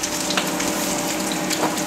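Greens hit hot olive oil in a pan over a fire and crackle in a steady, close, bright sizzle with no pauses.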